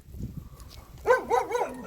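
Dogs bark outdoors in a short volley of about three quick yelps, close and fairly loud, following a moment of quieter background noise.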